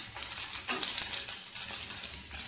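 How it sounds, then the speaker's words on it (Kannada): Cloves, cinnamon, garlic and fresh coconut frying in a pan, giving a close steady sizzle with light stirring scrapes and small crackles, no voices. "ಇದನ್ನು ಫ್ರೈ ಮಾಡ್ಕೊತಾ ಇದ್ದೀನಿ"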